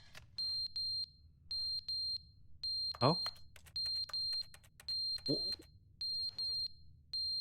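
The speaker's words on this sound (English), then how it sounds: "Why is the smoke detector thing going off?" Smoke detector alarm in the game The Stanley Parable: Ultra Deluxe, sounding loud, evenly spaced pairs of piercing beeps that repeat steadily, with brief voice exclamations breaking in.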